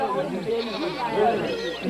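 A goat bleats in a Dogon farming village, a couple of wavering, nasal calls rising and falling over a low murmur of voices in the background.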